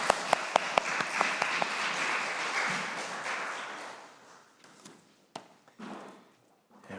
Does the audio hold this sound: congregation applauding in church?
yes